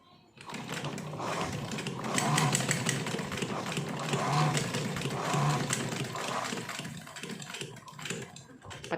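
A sewing machine stitching a kurti sleeve design runs steadily at close range, giving a continuous dense mechanical whir with a rapid needle rhythm throughout, and a voice faintly underneath.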